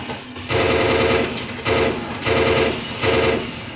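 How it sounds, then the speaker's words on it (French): Loud bursts of rapid automatic gunfire in a video game, in repeated volleys, each lasting about a second with short gaps between. "Et le son des armes contribue vraiment"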